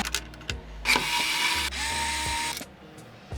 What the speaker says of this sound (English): I'm using a normal P1 screwdriver.